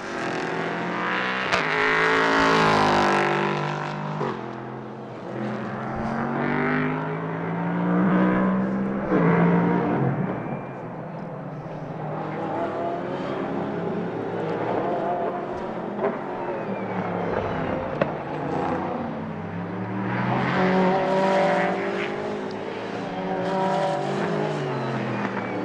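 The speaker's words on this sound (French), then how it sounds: "on va attendre que toutes les voitures passent sous la ligne" GT3 and LMP3 race cars at the Nogaro circuit roar past the finish line one after another, engines loud and close, rising and falling as each car passes.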